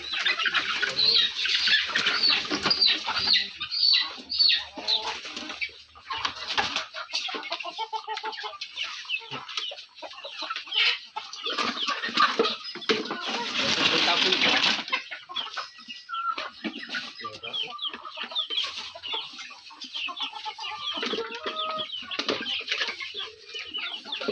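Chickens kept in a small 10 by 12 foot laying-hen shed flap their wings in bursts and cluck steadily, with a loud flurry of wingbeats standing out midway, close to the listener.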